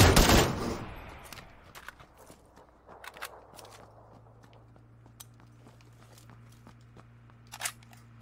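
An AK rifle fires in the PUBG video game as a loud, rapid burst of automatic fire at the very start. Soft footsteps and light crunching steps follow, with one more sharp click near the end.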